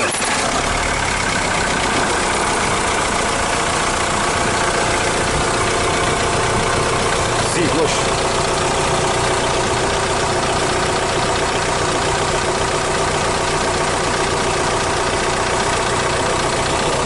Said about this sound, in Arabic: تقدر تنوض لنا الموتور